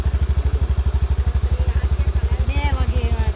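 A motorcycle idles close by, its engine thumping in a fast, even pulse, while people talk over it.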